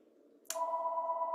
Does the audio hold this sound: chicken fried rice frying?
no